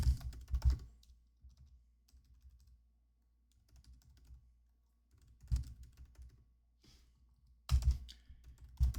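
Fortran source code being typed on a computer keyboard, bursts of close key clatter separated by quiet pauses, with louder clusters at the start, middle and end.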